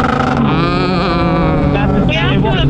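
A motorcycle with an aftermarket tune holds against its launch control limiter near 7,500 rpm in neutral or with the clutch in, giving a loud, steady, buzzing engine drone for the whole stretch.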